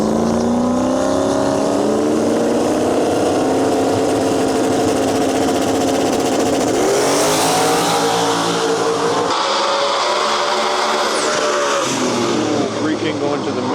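A New Edge Ford Mustang drag race car roars loud and close down the strip, its engine pitch climbing through gear changes and then dropping off, with a track announcer talking over it.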